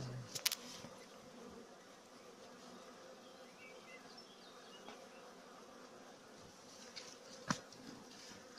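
Steady insect buzzing from many honey bees at a hive fills the whole stretch, a dense droning hum with a couple of brief louder knocks near the start and end.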